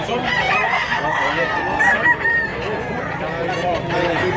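Numerous roosters crow continuously across a Mantalungon, Cebu chicken market, overlapping calls near and far forming a steady din, with some people talking underneath.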